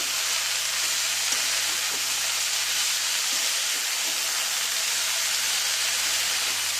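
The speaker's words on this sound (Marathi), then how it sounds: "आता छान ढवळून घेऊ।" Shepu (dill) greens fry in a pan over a low gas flame, giving a constant, dense sizzle up close, with faint soft ticks from stirring underneath.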